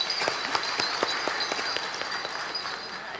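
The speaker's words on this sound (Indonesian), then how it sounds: "Tepuk tangan untuk semuanya." Audience clapping fills a hall at a university graduation ceremony for new management graduates, a steady moderate patter of many hands heard from a little distance.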